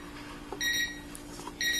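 ZHPUAT JFE0135 digital alarm clock beeping its alarm, two short electronic beep bursts close together, fairly quiet over a low steady hum.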